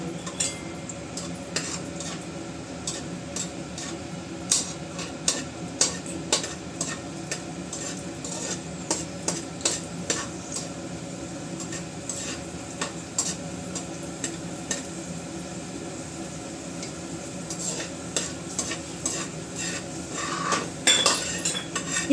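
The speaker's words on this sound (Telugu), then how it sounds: "ఇప్పుడు కిస్మిస్ వేసుకోవాలి" Raisins fry in a pan for sheer khurma, stirred with a metal spoon that clinks and taps against the pan repeatedly over a soft, steady sizzle, the strokes growing busier toward the end.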